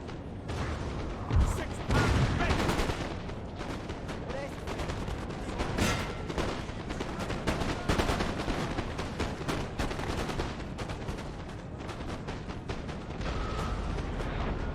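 Massed musket volleys crackle across a Napoleon: Total War battlefield, dense bursts of gunfire stacking over a constant rumbling din, with a voice talking throughout.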